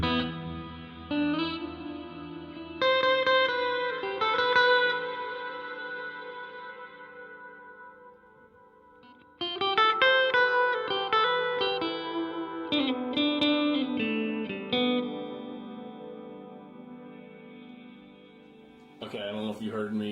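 Electric guitar played through a Donner delay and reverb pedal with tap tempo, its tone knob being adjusted; chords and picked notes ring out with trailing echoes and washy reverb, in two phrases separated by a decaying pause.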